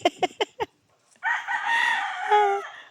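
A rooster on a farm crows once in a long, clear call, preceded by a few sharp clucks from chickens nearby, with a short quiet gap between them.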